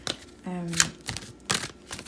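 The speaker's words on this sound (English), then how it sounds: "there's a really big difference between shuffling like a newer deck and then an older deck" A tarot card deck is shuffled close by in quiet bursts of riffling and flicking cards, with short gaps between the strokes.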